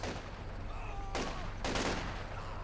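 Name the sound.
machine gun and gunfire in video game Company of Heroes 2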